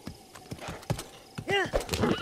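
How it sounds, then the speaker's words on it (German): A horse neighs and its hooves clip-clop in The Legend of Zelda: Breath of the Wild, with quick hoofbeats and a clear whinny, close and under people talking. "Oh, nimm mal das Pferd her."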